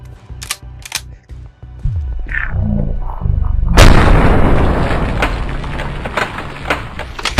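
An auto shotgun fires in a VR shooter game: a few sharp clicks, then a heavy booming blast that rolls into a long, loud, dense stretch of impacts and debris.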